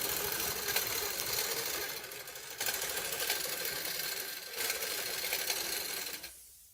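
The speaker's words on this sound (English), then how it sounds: "we're going to create a new pattern by simply sewing this out 4 different times at different angles" An embroidery sewing machine stitches out a pattern, a steady close mechanical whir with rapid needle clatter that pauses briefly twice, then winds down at the end.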